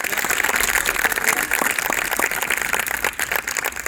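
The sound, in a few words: audience applause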